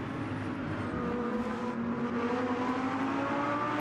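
Racing cars, among them a Lamborghini, in the Motor Mania game: a steady high engine drone with pitch slowly climbing as the cars accelerate close together, loud and unbroken.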